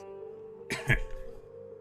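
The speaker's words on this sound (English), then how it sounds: "Mr. Lang, your cough is worsening." A single short cough from a character in the video game Wandering Sword breaks through a low, steady background hum, brief and moderately loud.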